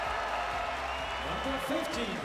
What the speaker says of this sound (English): Big cheer for Nicolas Karabatic coming in